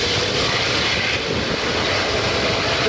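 Airplane jet engines producing jet blast, a loud, continuous broadband roar and rushing wind, steady and close for a few seconds with no talk.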